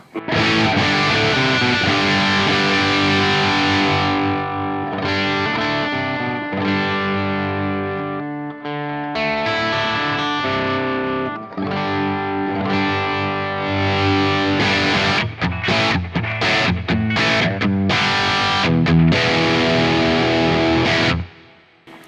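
Heavily overdriven electric guitar chords ring out continuously through an amp tone from the ML Sound Lab Essentials capture pack, thick and distorted, with choppy strummed stabs toward the end.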